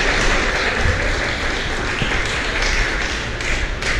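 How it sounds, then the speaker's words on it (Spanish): Dense, steady applause from a congregation at a religious Torah-portion gathering, a continuous broadband patter of many hands clapping at even loudness for about four seconds with no talk over it. "Dale un aplauso al Creador."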